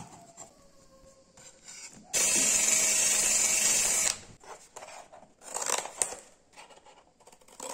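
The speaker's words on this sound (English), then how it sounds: "Drill a hole in the center." A drill bores a hole through the center of a classic videotape cassette, a steady loud whine lasting about two seconds, framed by quieter handling and clicking of the plastic shell.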